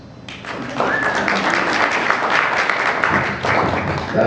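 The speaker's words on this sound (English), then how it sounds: "Round of applause." Audience applause at a JCI Edmonton gathering, steady clapping from a room of people lasting about four seconds, fairly loud and close, with a brief dip near the end.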